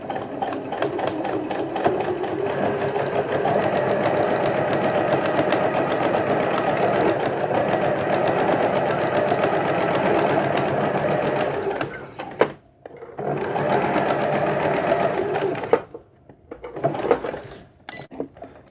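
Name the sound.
sewing machine stitching a quilt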